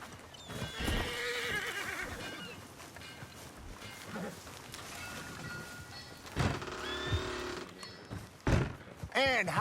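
A horse in the video game Red Dead Redemption 2 whinnies several times amid hoof clops and thuds, the neighs rising sharply near the end, while characters talk throughout.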